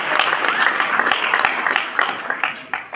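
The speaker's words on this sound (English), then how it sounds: "Let's clap for him." An audience at a mentorship school launch and anniversary event claps loudly and continuously, with dense, uneven hand claps close by that thin out slightly toward the end.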